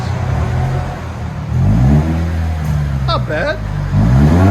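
A 2016 Lexus IS 200t with a 2.0L turbo engine and muffler delete revs up loud and close, rising and falling in pitch over a steady idle, with a short spoken comment partway through.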